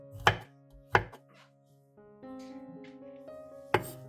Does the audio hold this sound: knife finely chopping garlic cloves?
yes